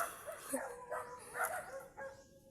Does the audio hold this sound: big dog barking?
yes